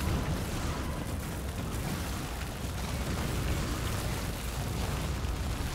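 Strafing run in Factorio: a dense, continuous rumbling barrage of rapid shots and impacts, loud and unbroken throughout with no talking.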